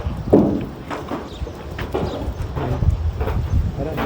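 A herd of goats moves along an oasis trail, their hooves clattering in an irregular patter close by with scattered bleats and rustling, continuous over a few seconds.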